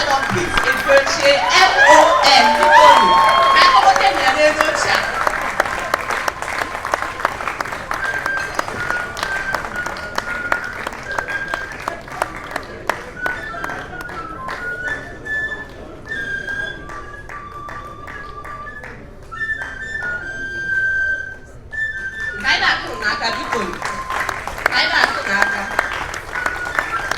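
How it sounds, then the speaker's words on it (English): Crowd applause at a Life Lager beer promotional event honoring Pete Edochie, loud sustained clapping through the opening seconds then continuing unevenly beneath an announcer's voice and crowd chatter. "Keep clapping for him. Applaud him, applaud him."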